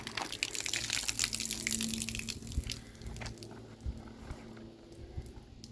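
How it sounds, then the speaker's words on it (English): Water pours out of the corner of a tarp over a car's rear window, a steady close gushing and splashing with crunchy crackles of the plastic sheeting, fading somewhat partway through. "I had water just absolutely pouring out of this corner of this tarp here"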